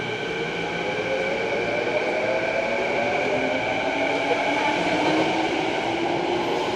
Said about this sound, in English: that was one packed train there.